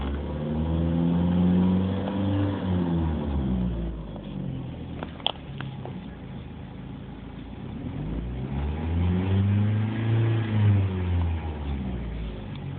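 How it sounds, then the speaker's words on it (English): A 2005 Dodge Neon engine revs up and falls back twice, a mid-pitched whine rising and dropping in two long sweeps with a faint click between, recorded close. "This is me revving."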